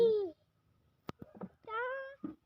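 A cat meows twice, loud and close, with a few soft thumps and rustles between the calls.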